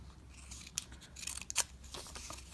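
Close, crisp scissor snips through paper while cutting a small stem for a craft mushroom bookmark, several short cuts clustered mid-way over soft rustling.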